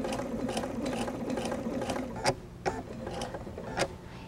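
Sewing machine stitching a quilt seam: a quick, even mechanical whir of the needle, fairly close but quiet, followed by a few separate clicks and taps near the end.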